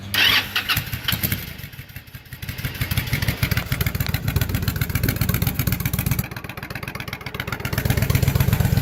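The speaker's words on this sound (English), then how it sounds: "Has a little bit of a weird sound because of all that stainless steel in it, but it changed the tone. It's still really loud." Loud idling engine breathing through a custom 4-inch exhaust fitted with stainless steel mini baffles, a steady deep throbbing rumble with short swells in revs, close by and alone throughout.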